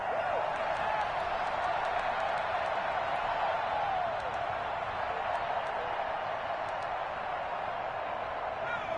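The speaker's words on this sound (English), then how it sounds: "And this crowd loves it as their guys hold on the opening drive." Stadium crowd at a Packers–Ravens football game, a dense continuous roar with scattered clapping, steady and loud from start to finish.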